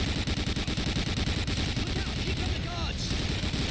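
Rapid gunfire in Medal of Honor Allied Assault, a continuous stream of loud, closely spaced shots from a World War II shooter, with game effects layered over the constant rattle.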